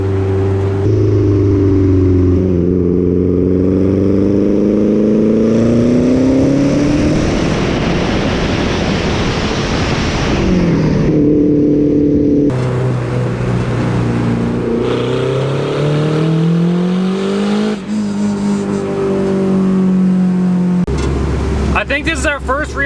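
A quad-turbocharged Honda Civic drives and revs repeatedly, pitch rising and falling through gear changes, loud and close, with speech faintly underneath.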